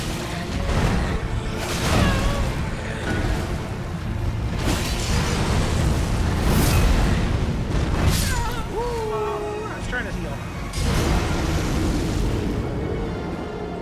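An Elden Ring boss's slash and explosion attacks: repeated loud booming bursts and whooshing sweeps across a dense, busy combat mix, with someone talking over the action.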